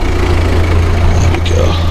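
A car engine idles close by with a steady low hum and rumble, loud and continuous, with faint traffic sounds in the background.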